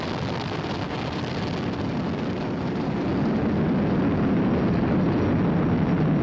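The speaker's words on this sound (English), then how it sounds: "Flying crew on board Dragon and Falcon 9, and look at them go." SpaceX Falcon 9 rocket carrying a crewed Dragon capsule, heard about thirty seconds after liftoff as a steady, broad roar that swells slightly louder partway through, with distant rumbling and wind buffeting throughout.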